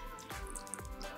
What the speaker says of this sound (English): first step, you take the color, and then pour it in.